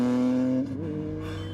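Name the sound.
cars in a movie car chase scene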